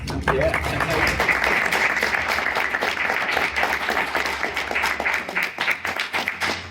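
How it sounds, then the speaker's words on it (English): A crowd applauding at a Mythic Legions dragon panel at the Toylanta toy convention, dense clapping that runs throughout and thins slightly toward the end. "I think that's an applause for everybody"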